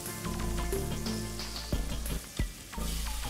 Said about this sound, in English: Melt and brown the butter.